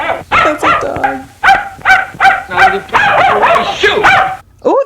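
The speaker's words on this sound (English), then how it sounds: "That's a dog." A small terrier from the 1938 screwball comedy Bringing Up Baby yaps and barks repeatedly in short, loud, close bursts, ending with a whimpering note.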